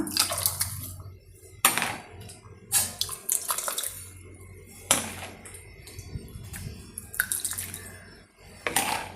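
Watermelon juice poured into a glass over ice cubes, heard as a run of watery splashes and clinks with a few sharp bursts, close up and with no talking.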